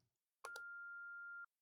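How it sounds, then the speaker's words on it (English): In the horror game I'm On Observation Duty 6, a telephone gives a short clicking double pulse followed by a steady electronic tone held for about a second, clear and isolated against silence. "The phone."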